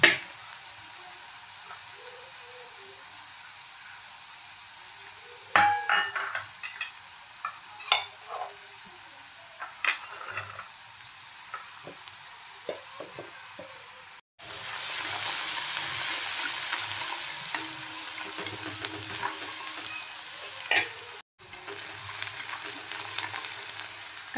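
Onions frying in a pan for an okra and gram flour curry: a low hiss with scattered stirring scrapes, then louder bursts of steady sizzling near the end, no talking.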